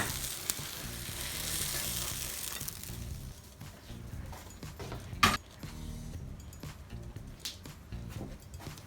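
Tomato and cheese omelette sizzling steadily in a pan, a soft continuous frying hiss close by with a brief clatter midway and no voices.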